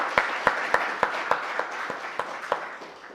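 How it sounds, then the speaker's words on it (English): Audience applause for the speakers and panellists at a public lecture on clean energy, a moderate crowd's steady patter with a few louder claps standing out at a regular beat, tapering slightly toward the end. "Please give a round of applause for our speakers and panellists."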